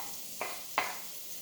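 Minced onion and garlic stirred in a frying pan with melted fat: two short, soft scraping strokes of a utensil across the pan over a faint steady background, fairly quiet and close.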